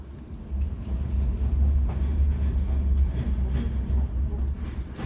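Bulgarian slow passenger train pulling out toward Vidin, a continuous loud low rumble of the carriage with faint rattles as it gets moving, heard from a seat inside.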